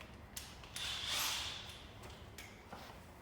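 A ratchet creaks and clicks while tightening the axle nut on a Chevrolet Cobalt, giving a few faint strained turns over a low background hum.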